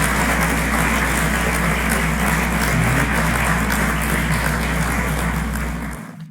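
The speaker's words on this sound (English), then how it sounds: "clap it up for Ashanti, man." Applause fills the space as a steady, dense wash of clapping, loud and continuous for about six seconds before cutting off abruptly, with a low steady hum running underneath.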